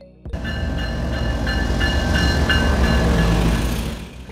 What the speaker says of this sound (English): Military train, trains used by the military for transporting military personnel and equipment